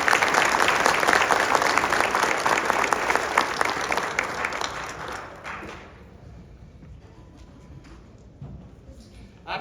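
Audience at a college gym dedication applauds the college president, a full round of clapping that holds for about five seconds and then fades to quieter room noise with scattered stray claps.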